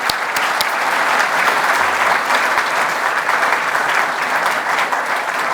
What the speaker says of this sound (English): Yes, a little round of applause.